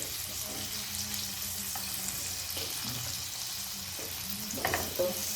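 Okra (bhindi) flipped and pan-fried, a steady soft sizzle with occasional clinks and scrapes of a utensil against the pan, close and fairly quiet.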